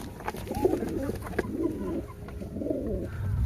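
Pigeons cooing close by in a domestic loft, three soft throaty rolling coos spaced about a second apart over faint background noise.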